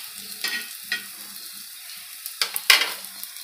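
Aloo vadi (taro leaf rolls) frying in oil in a pan give a quiet, steady sizzle, broken by a few sharp clinks and scrapes of a utensil moving the pieces, close by with no voices.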